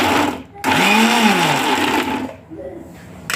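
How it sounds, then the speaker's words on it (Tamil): Electric blender grinding four large green chillies, a loud close whirring motor that runs steadily, dips, then restarts briefly at the end. "பச்சை மிளகாய் பெரிய காயில் 4 எடுத்துக்கிறோம். அதை நாங்கள் கொஞ்சம் பிளெண்ட் பண்ணி எடுப்போம்."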